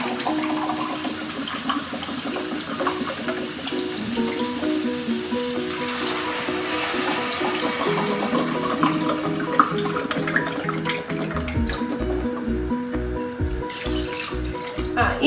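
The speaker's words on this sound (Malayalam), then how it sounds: "അപ്പൊ 2 ഗ്ലാസ് വെള്ളം നമ്മൾ ഒഴിക്കുക." Two glasses of water pour into a pot of basmati rice for tomato rice, a continuous gushing splash under soft background music, followed near the end by a series of quick regular knocks.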